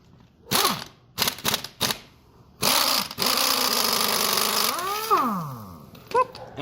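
A power impact tool with a 17 mm socket buzzes in short bursts and then a longer run, pitch sliding as the strut nut spins loose during a lowering spring install on a 2018 Honda Civic Si, close and loud.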